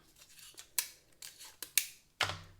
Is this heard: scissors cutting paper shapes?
yes